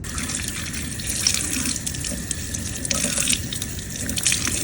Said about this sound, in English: and then just rinse it under the tap to get any of this dirt out